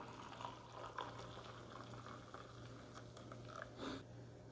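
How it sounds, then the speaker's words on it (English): Hot water pours into an MRE coffee with creamer, a soft, faint liquid trickle and gurgle over a low steady hum, with small clinks and bubbling near the end. "Add some hot water."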